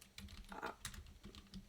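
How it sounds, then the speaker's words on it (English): Quiet, close typing on a computer keyboard, irregular bursts of key clicks with brief pauses. "I'm speaking out loud while I'm typing"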